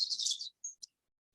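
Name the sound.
birds chirping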